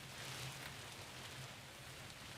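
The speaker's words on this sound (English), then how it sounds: "it's pouring down with rain" Steady rain patters down with a soft hiss, fairly faint and even throughout, ending with a brief sharp knock.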